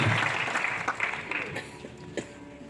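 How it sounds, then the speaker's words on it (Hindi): People at an anniversary event in a hall break into applause, with a burst of dense clapping that gradually thins out, alongside some voices and movement. "जोरदार तालियां उदय के लिए।"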